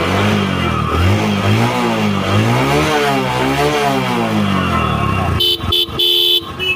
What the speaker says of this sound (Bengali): গাড়িগুলো স্টার্ট হচ্ছে